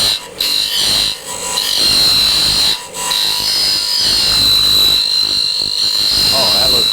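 A lathe cutter shaves a wooden baby rattle as it spins, giving a steady, loud scraping whine with a bright high edge. The cut breaks off briefly a few times, and faint talk sits under it.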